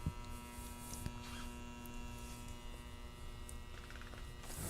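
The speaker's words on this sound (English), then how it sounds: "It's just a transformer that's making some noise." A transformer in old vintage electronics humming as it heats up, a steady low electrical buzz with a faint harmonic whine, constant and quiet throughout with no talking.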